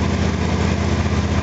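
An unmodified engine runs at a steady idle, a continuous loud close-up drone with an even low pulsing throb and no speech.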